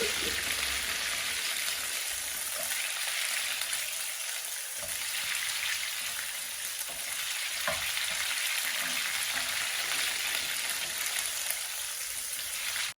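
Ginger garlic paste fries in a hot pan, a steady close sizzle and crackle with occasional stirring scrapes, continuous and alone for about thirteen seconds.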